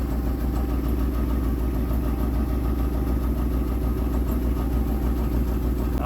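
A Dodge Caravan engine with a wiring harness fault idles rough and misfires, producing a close, steady low rumble with an uneven pulsing throb and no voices.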